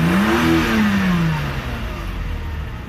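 A 1991 Mercedes 300CE W124 engine revs up with a rising whine, then settles back to a steady idle; close and loud, with no talking.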